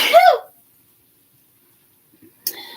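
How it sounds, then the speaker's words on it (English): A single short sneeze-like burst at the start, followed by near silence and then a faint, brief sound near the end. "Sneeze."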